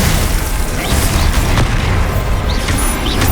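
Explosive Confringo spell blasts from the Hogwarts Legacy video game, a loud continuous roar of bursts and booming impacts filling the whole span, with no talk over it.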